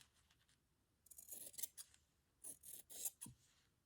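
Scissors cutting through quilt fabric, several short crisp snips in a quiet room, close and soft, with brief pauses between cuts.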